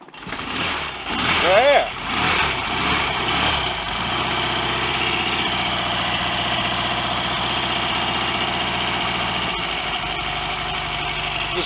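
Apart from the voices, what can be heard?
Royal Enfield Constellation motorcycle engine starting and idling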